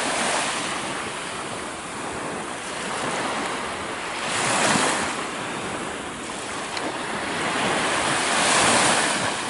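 Sea waves roll onto the beach at Marina di Vecchiano in a steady, broad roar, swelling and easing in slow surges, with wind buffeting the microphone throughout and no voices.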